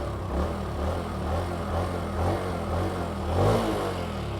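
A 2024 Honda Trail 125 mini motorcycle idles steadily and close by, its quiet small engine giving a couple of light revs, the strongest swell near the end, with no talking.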